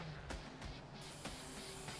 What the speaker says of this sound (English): Just gonna spray paint this real quick.